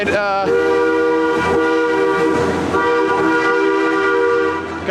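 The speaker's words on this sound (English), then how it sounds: "Goddamn train." A train at Six Flags Over Georgia theme park rolls by close and loud with a steady sustained horn-like drone throughout, no talking over it.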